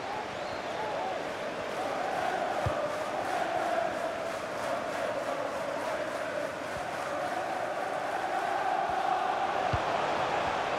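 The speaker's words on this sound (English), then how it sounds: "The crowd urging him to shoot." A stadium crowd at a Premier League football match between Tottenham and Liverpool in the FC 24 video game roars steadily throughout, a dense continuous wash of massed voices without spoken words.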